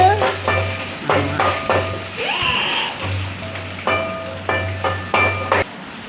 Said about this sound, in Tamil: நல்லா வதங்கிக்கிட்டு நல்லா வதக்கிட்டு